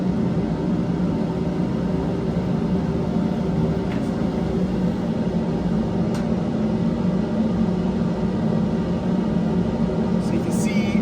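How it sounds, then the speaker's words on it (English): Steady broadband whoosh of laboratory fume hood fans running continuously during a chlorine gas reaction, a constant hum with a low-pitched rumble band underneath, a few faint clicks, no talk. "fume hoods fans running because this obviously chlorine gas is hazardous to breathe."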